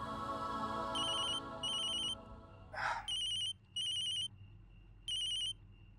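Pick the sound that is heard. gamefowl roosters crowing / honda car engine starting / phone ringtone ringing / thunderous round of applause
phone ringtone ringing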